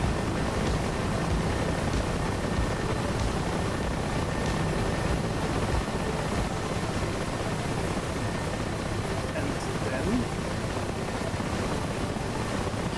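A helicopter in the DCS flight simulator game gives a continuous dense rotor-and-engine roar, steady and loud throughout with no break, and no speech heard.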